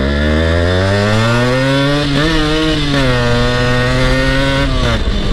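A Yamaha RX two-stroke motorcycle runs loud and close just after being started, its buzzing engine note rising and falling with throttle blips and no talk over it.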